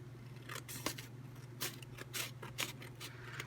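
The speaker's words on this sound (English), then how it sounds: "We'll just cut a little more off with scissors." Scissors snip through paper and envelope scraps at a junk-journaling craft table, a series of short crisp cuts spaced irregularly over a steady low background hum, close and fairly quiet.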